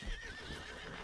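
A horse in Red Dead Redemption 2 whinnies loudly over a quick patter of hooves, one short, close burst with no talking.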